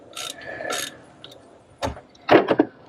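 Ratchet with a size 10 socket on a belt tensioner bolt, close clicking pawl bursts and metallic ratcheting in short clusters, with some light clanks from the tool.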